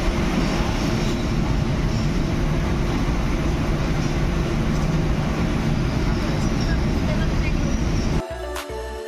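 The Banglabandha Express runs along its line in Bangladesh with a loud, continuous rolling rumble and rattle. The roar holds steady before dropping abruptly near the end.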